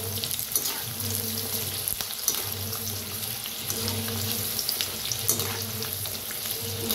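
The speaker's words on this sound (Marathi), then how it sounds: "आता छान तळायला लागले ते बघा" Chana koli vada with garlic and curry leaves fry continuously in hot oil, a dense steady crackling sizzle with no voices.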